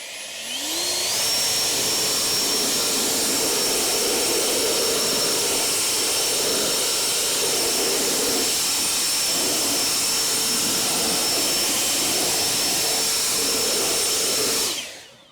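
A powerful air blower roars steadily and loudly for about fifteen seconds while drying a car's surface after traffic film removal, starting and cutting off abruptly with a high whine over broadband rushing air.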